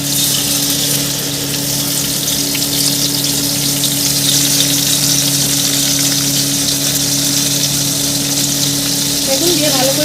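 Chilli and black pepper frying in hot oil for a vegetarian dahi paneer dish, giving a steady, close, hissing sizzle that continues without pause.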